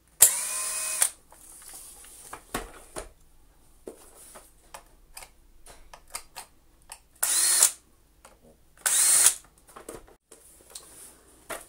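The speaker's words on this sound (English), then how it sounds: "We can then drop down to a T10 and remove the screws on the ends of the floor head." A power driver with a T10 bit backs screws out of a Shark AX950 floor head: three short, loud whirring bursts, with scattered small clicks and taps of handling between them.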